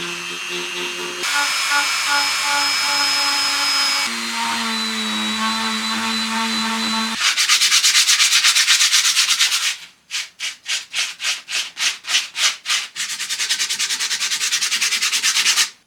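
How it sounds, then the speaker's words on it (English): A rotary tool fitted with carving burrs cuts letters into a surface, a steady high whine shifting in pitch between bursts, then a run of quick rhythmic stop-start grinding pulses before resuming continuously, close and loud with no talk. "I will over time change my burrs to slowly finesse everything, tidy it up and make it look hopefully really sharp."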